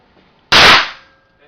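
A single booming Smith & Wesson 500 Magnum revolver shot goes off close by, a sharp blast with a short ringing decay, and no talk.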